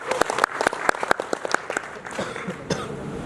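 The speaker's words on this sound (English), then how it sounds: "I think now we can clap for us." An audience at a WordCamp talk claps in a short burst of scattered, fairly close applause that thins out near the end, with a cough or two mixed in.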